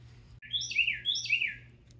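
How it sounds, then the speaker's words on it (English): Birds chirp outside a garage, two clear bursts of bright descending tweets close by, with a faint low hum underneath. "we got the lovely birds in the background today at whatever garage"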